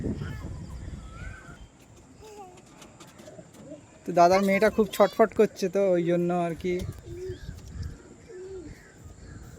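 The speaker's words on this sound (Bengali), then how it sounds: "এই দাদার পায়রা এখানে বসে আর কি।" Soft pigeon coos repeat near and far while a person speaks over them for much of the stretch.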